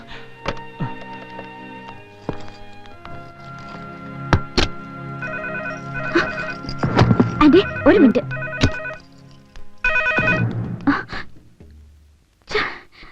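A telephone rings in a home in a few short bursts of repeated electronic tones, broken up by knocks, thuds and voices talking.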